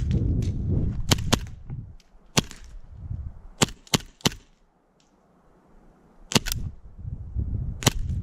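Airsoft pistols fire in a duel, sharp snapping cracks coming singly and in quick pairs, loud and close, with quieter stretches of rustle and background noise between them.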